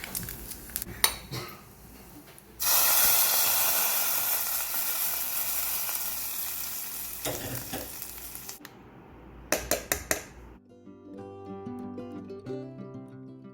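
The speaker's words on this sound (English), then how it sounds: "I have heated some coconut oil. Next to this, add some mustard seeds, few curry leaves along with some dry red chili." Mustard seeds, curry leaves and dry red chili drop into hot coconut oil and burst into a loud, crackling sizzle that slowly fades, framed by clinks of utensils and pans before and after.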